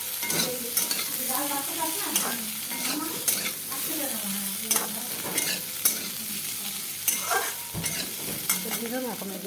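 Spices sizzle and fry in a pan for a potato dum, with cumin paste and a little sugar, while a utensil stirs and scrapes steadily throughout, close and fairly loud.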